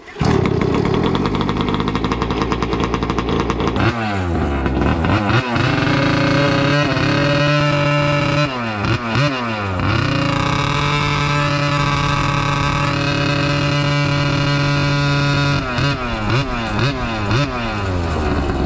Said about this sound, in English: so that's second pole with the choke on, so let's see if it fires up